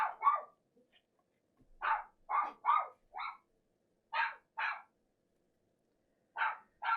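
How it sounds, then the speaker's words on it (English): A dog barks indoors during a keyboard build session, about ten sharp barks in clusters of two to four separated by pauses, moderately faint in an otherwise quiet room. "Sorry about the dog."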